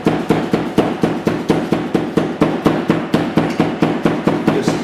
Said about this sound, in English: I use a brass rammer from a 3/4 inch fountain set